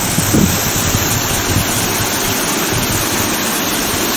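A mountain stream in the Suntar-Khayata Range rushes over stone steps in a narrow rocky channel, a loud, steady roar of water with no pauses and no voices.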